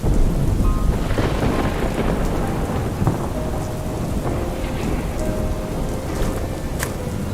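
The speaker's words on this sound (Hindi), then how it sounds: "बाबूदीही गांव में पिछले कई दिनों से लगातार बारिश हो रही है।" Heavy, steady rain pours over a village, a dense continuous wash of drops on surfaces with occasional low rumbles of thunder, loud and close throughout with no voices.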